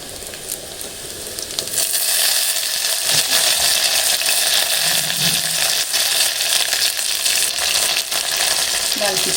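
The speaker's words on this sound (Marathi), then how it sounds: "तेल गरम झाले की कांदा टाकायचा" Onion dropped into hot oil for Malvani-style kombdi vade, starting with a loud burst and a steady crackling sizzle that runs throughout, with faint stirring.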